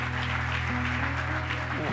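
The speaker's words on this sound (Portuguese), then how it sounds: "Vamos aplaudir a Jesus pela vida deles?" Church congregation applauding together during a service, a steady, dense wash of clapping that holds evenly throughout with a low background hum and no distinct voices over it.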